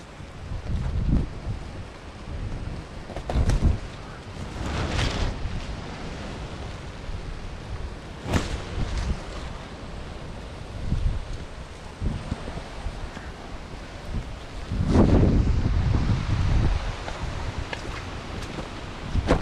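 Strong wind blows in heavy gusts and rumbles against the microphone, steady and loud, with no voices.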